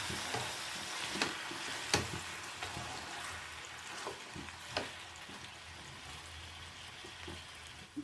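A spatula scrapes and stirs food around a hot pan in short irregular strokes over a constant low sizzle, each stroke a brief clatter, close and fairly clear.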